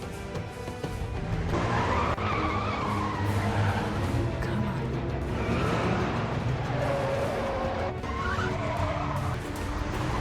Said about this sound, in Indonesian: Adegan kejar-kejaran mobil di jalanan Seoul pun dimulai.